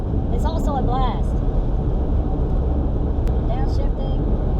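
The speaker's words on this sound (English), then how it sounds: "Downshifting, oh my gosh. The rev just goes all the way up." A 1997 Toyota Celica ST with a 5-speed manual revs up on a downshift, its engine note sweeping upward twice over constant road and cabin rumble, with a voice faintly present.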